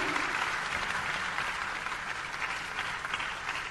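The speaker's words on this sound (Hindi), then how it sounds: "जोरदार तालियों के साथ" Warm applause from the audience at a Gujarati community celebration honouring guests in Raipur, a dense, continuous wash of many hands clapping at moderate volume throughout.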